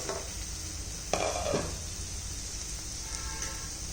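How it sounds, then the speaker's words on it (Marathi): Soft tomatoes cook in a pan for a potato rassa curry, and a utensil stirs them in a brief scraping clatter around the middle against a quiet, low sizzle. "एकदा हलवून घ्यायचं टोमॅटो शिजला आहे की ते पाहिजे चांगला मऊ झाल्यानंतर"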